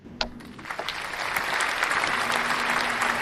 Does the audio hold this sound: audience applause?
yes